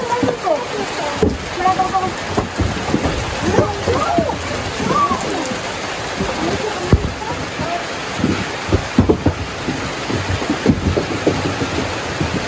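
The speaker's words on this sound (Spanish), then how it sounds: "Começando a chuva" Rain beginning to fall at a home, a steady broadband hiss of drops filling the background under close conversation throughout.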